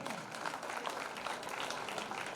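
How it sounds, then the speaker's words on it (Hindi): Audience applause fills an award ceremony hall for a community talent honour event in Jhalawar, steady dense clapping throughout at moderate level with no voices. "जोरदार तालियां।"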